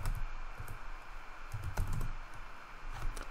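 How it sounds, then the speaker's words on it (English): Password being typed on a computer keyboard while logging into SAP ABAP Development Tools in Eclipse: a steady run of close, crisp key clicks with a few louder strikes, no talking. "our password, which I've messed up typing"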